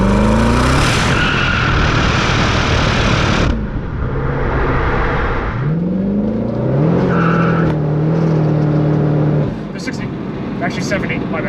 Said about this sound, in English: we'll let it shift down and we'll open up those turbos a little bit.